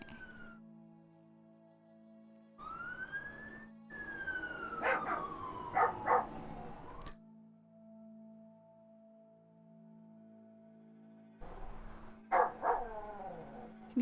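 A dog named Cashew howls along with passing sirens, rising and falling wails in several long stretches separated by quieter gaps, with a few sharper yips mixed in.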